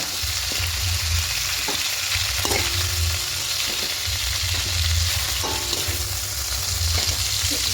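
Chicken pieces fry in hot oil over high heat with a steady, loud sizzle, broken by a few scraping clicks of a spatula and pan taps, with no voices.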